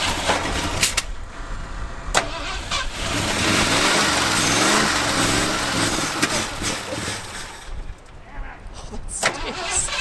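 An old, long-abandoned plow truck engine held at high RPM, a loud, steady roar with a rough, wavering pitch that fades near the end, voices talking over it.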